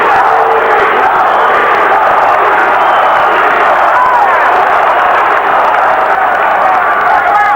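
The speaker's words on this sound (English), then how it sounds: "you just hear the buzz go right through the crowd every time either one of them does" Arena crowd at the Oscar De La Hoya versus Felix Trinidad boxing match, a loud, continuous buzz of thousands of voices with rising cheers and shouts sustained throughout.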